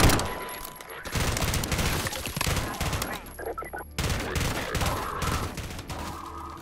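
Rapid bursts of gunfire from the video game Garry's Mod, loud and near, with dense repeated shots running almost the whole way and a brief lull partway through.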